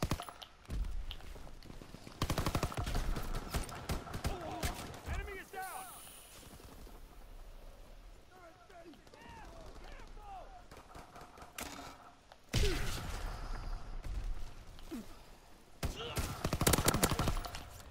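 Gunfire rings out in the Call of Duty video game, bursts of rapid shots at several points between quieter stretches, with game effects and a player's voice talking over them.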